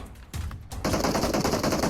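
Loud, rapid automatic gunfire from behind in PUBG Mobile erupts after a couple of isolated shots and continues as a dense, steady burst to the end.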